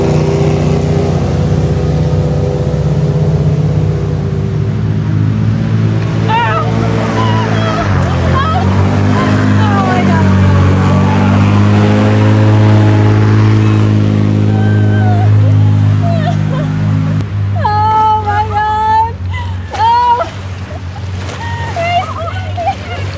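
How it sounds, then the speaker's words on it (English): Airboat engine on a river, a loud, steady drone that swells as the boat passes by, with people talking over it throughout. "We have an airboat going east."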